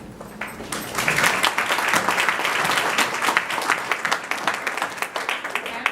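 A room full of people applauds steadily, dense clapping that swells and then thins into scattered claps near the end.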